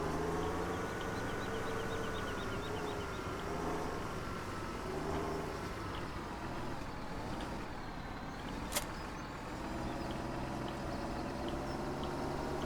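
A tractor engine in Farming Simulator 17 on the Goldcrest Valley farm runs at a steady, continuous drone, with a brief sharp click partway through and no voices.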